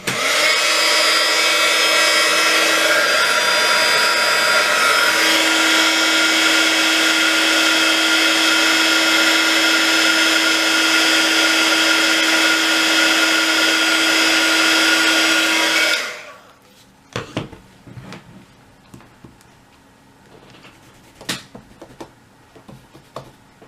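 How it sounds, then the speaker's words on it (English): A heat gun blowing hot air to heat set ink on a handmade watercolour card, a loud steady whirring roar with a faint tone for about sixteen seconds, then it shuts off, leaving quiet clicks and handling sounds. "Right, so I'm just going to heat set that."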